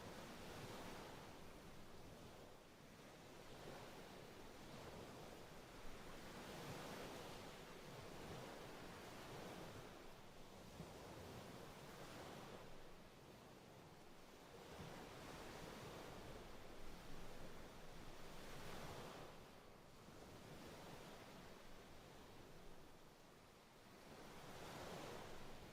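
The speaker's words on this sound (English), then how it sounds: "There's the sound of the ocean." Ocean waves roll in as steady, soft surf with gentle swells rising and falling, heard alone with no talking and a faint wind-like hiss throughout.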